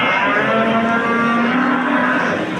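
A cow moos loudly and steadily at a busy livestock bazaar in Yangiyo'l, one long sustained low call lasting the whole moment with no talk over it.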